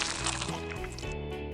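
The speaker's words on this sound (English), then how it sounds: "for the squishy sounds I used a melon." A short, wet squelching and squishing sound made with a rock melon, close up and fairly quiet, with soft dripping textures.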